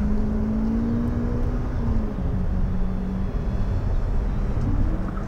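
A Toyota car engine drones steadily through a track lap, with a sustained low hum and a pitch that shifts slightly as it pulls, heard alone and fairly loud.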